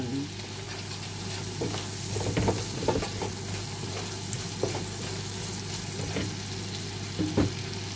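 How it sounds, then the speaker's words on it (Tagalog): Mussels hiss and sizzle steadily in a hot pan, with occasional spoon clicks and scrapes as they are stirred, close and even throughout, with faint talk at moments. "Tapos niyan, ihalo ko na ang tahong."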